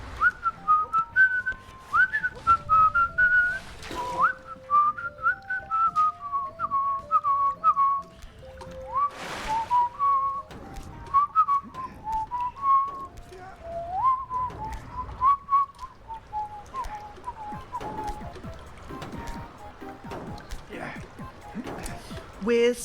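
A person whistles a wavering melodic tune in the style of Mary Poppins, imitating birdsong, loud and close with short breaks between phrases and some handling noise.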